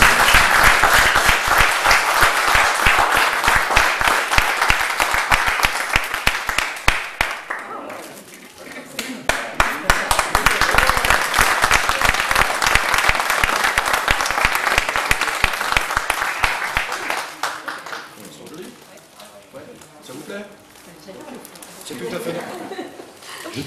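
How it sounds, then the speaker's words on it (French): An audience at a first-anniversary celebration breaks into sustained clapping, which pauses, resumes strongly, then gives way to talk and scattered sounds near the end. "on peut les applaudir"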